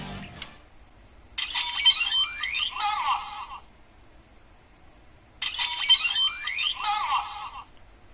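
A DX Mammoth Vistamp toy gives a sharp button click, then plays two identical bursts of electronic effects with rising sweeps and chiming tones, close and loud, separated by a short pause.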